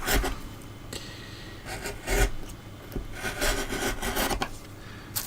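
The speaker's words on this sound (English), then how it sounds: "Let's take a bit more down, then I'll get the flat chisel into some of these areas." Hand chisel scraping and rasping into carved wood for a dragon sculpture, close and fairly quiet, with irregular short strokes and rubbing.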